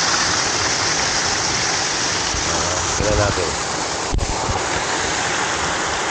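Strong rush of mountain spring water flowing hard near a beach camp in General Nakar, Quezon, a loud steady broadband roar close by, with a person speaking briefly over it.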